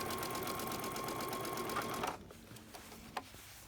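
A sewing machine runs steadily with a rapid, even stitching whirr for about two seconds, then stops, leaving a few faint clicks and mechanical ticks afterward.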